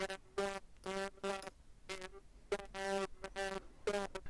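Sound heavily distorted by wave shaper saturation in Ableton, a harsh buzzing tone chopped into short rhythmic bursts with gaps between them, loud and crunchy with no voices.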